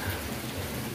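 Steady rain falls continuously during an evening meal in the Vietnamese countryside, a dense hiss close by with low rumbling underneath and no talk.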